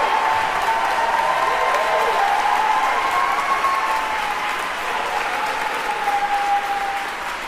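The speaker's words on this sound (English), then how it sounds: "I would like to ask this entire assembly to give them a rousing round of applause" A graduation assembly breaks into loud, continuous applause, many hands clapping steadily throughout, with a few faint voices and whoops mixed into the crowd noise.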